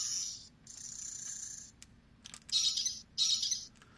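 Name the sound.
Mattel Disney Dinosaur Veloci-kicker toy making bird-like noises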